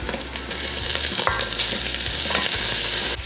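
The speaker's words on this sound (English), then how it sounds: "I'm gonna be adding tomatoes." Tomatoes hit a pan of frying onions, giving a loud, close, steady sizzle with stirring scrapes throughout and no talking.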